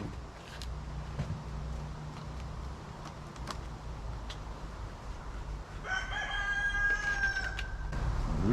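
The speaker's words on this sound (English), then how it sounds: "Rooster always wants to make the video" A rooster crows twice near the end, fairly close and clear, over steady low outdoor hum and rumble during boat gel coat work in a yard, with a few clicks and taps earlier.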